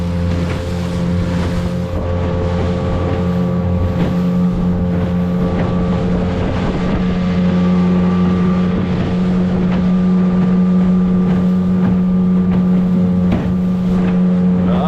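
A dinghy's outboard motor runs wide open on rough water, a loud steady engine drone close to the microphone, with wind buffeting and hull slaps from the waves throughout.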